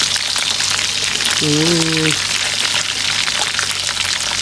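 Food frying in hot cooking oil during Filipino home cooking, a loud steady hiss and crackle throughout, with a brief tonal sound cutting through in the middle.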